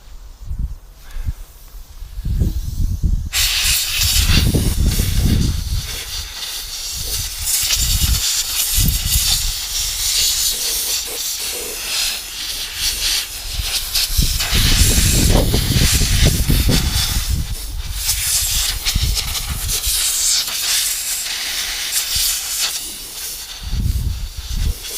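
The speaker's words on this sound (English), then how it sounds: "Get my air gun." A compressed air gun blows out the carburetor of a Suffolk Punch Qualcast mower after a year in a shed. After a short quiet start, a loud, sustained, close hiss runs almost the whole time, swelling and easing slightly, with no voices.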